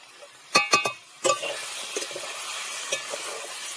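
Vegetables (kohlrabi, eggplant and potato) with turmeric are sautéed in a pan. A few quick clinks of the utensil open the clip, then a steady, close sizzle and soft scraping continue to the end.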